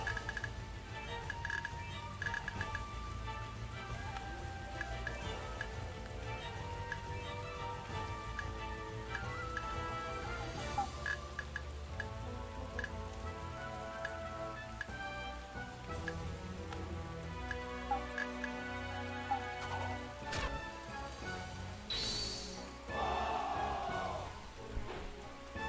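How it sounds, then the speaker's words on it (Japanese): Rain ambience from the Sengoku strategy game Taikō Risshiden V DX, a steady soft patter that runs throughout under in-game background music, with no talk. "雨なんや。"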